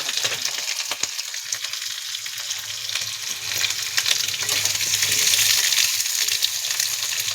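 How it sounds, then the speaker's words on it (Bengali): Potatoes frying in oil in a wok, a steady close crackling sizzle that swells slightly toward the end, alone without talk. "আলুটা আস্তে আস্তে ভাজালো।"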